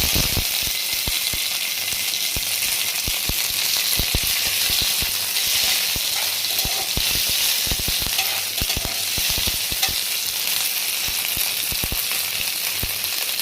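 Curry leaves crackle and sizzle loudly in hot mustard oil with mustard seeds and green and dried chillies. A constant dense hiss runs throughout, punctuated by frequent sharp pops and spatters, with no voices.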